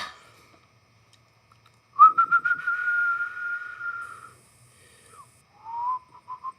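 A person whistles alone in a quiet room: one long sustained note with a fluttering start, then a short rising whistle and a few brief chirps.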